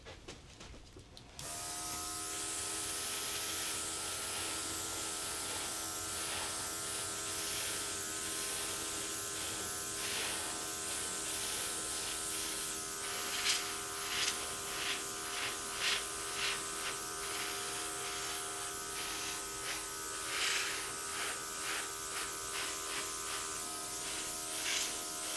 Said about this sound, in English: Okay, I'm just going to take my airbrush now.